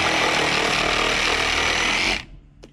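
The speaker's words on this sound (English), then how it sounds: "My least favorite tool to use is a sawzall" A sawzall reciprocating saw cuts hard and fast, a loud rough buzzing rattle that runs steadily for about two seconds and then stops abruptly, leaving a faint tap in the quiet.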